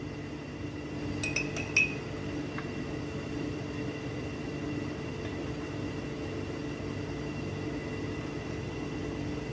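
A glass jar handled on a hard surface, giving a few quick bright clinks close by over a steady low room hum.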